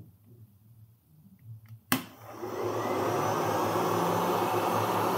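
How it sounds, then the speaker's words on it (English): A heat gun powered by a 1000W inverter kicks on after a sharp click, then runs as a loud, steady whooshing blower hum that holds for several seconds with no talking. "Heat gun is on."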